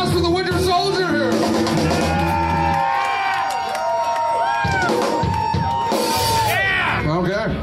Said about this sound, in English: Can I get some applause for the Winter Soldier here?